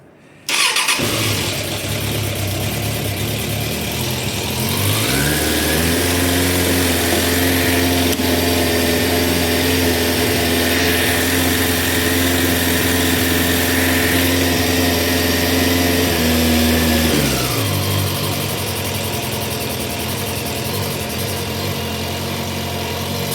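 A Suzuki Bandit 600 S motorcycle engine fires up and settles into a steady, loud, close idle with an even drone that holds for about twenty seconds before dropping slightly at the end; no talk.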